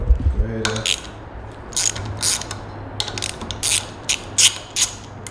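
A ratchet loosens a bolt on a Rascal GT mobility scooter, giving a close series of quick clicking pawl bursts in uneven spurts over a low steady hum.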